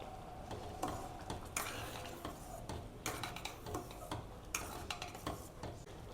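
A spoon scraping and clinking around a pot of coconut milk kozhukattai in repeated strokes, close up, with a faint sizzle beneath.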